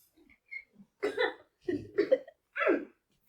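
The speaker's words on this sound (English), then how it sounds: "But you cough. It's a very satisfied cough." Several short, close coughs in separate bursts with quiet gaps between them, plus a few faint throat sounds.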